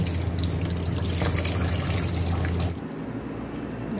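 Hot water pours steadily over potatoes to soak them before oil-free french fries, a close, continuous splashing stream that cuts off abruptly near the end, leaving a quieter background.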